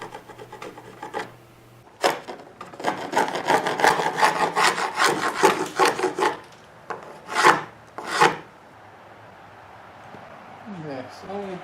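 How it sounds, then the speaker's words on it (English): A chisel scrapes excess glue off glued-up birdseye maple and walnut boards for an electric guitar body, giving bursts of rough, rasping strokes in quick rhythmic runs, close and loud, with a voice speaking at times. "Here I'm using a chisel to remove excess glue from one side of the boards before I move on to using a sander."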